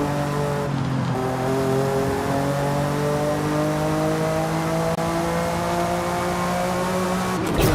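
Car engine in the racing game Forza 5 revving steadily at high pitch, its tone rising and holding in long sustained pulls, loud and continuous from start to finish with a brief shift in pitch near the end.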